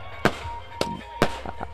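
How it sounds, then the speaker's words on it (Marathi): Fireworks set off at a night village sports tournament to welcome a bull's grand entry: three loud, sharp bangs roughly half a second apart, with smaller crackling pops between them. "फटाक्यांची आतिषबाजी भरपूर खर्च केलेला आहे भावा"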